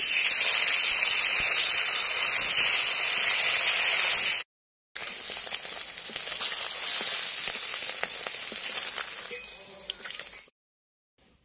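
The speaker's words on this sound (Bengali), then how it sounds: "বাকি মাছগুলো ভেজে নেব।" Pond-raised rohu fish fries in hot oil in a village kitchen, making a loud, dense, continuous sizzle close up, broken by a brief dropout partway through and fading out near the end, with no voices.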